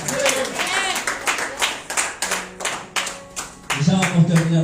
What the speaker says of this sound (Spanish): Da un fuerte aplauso a Él, amén.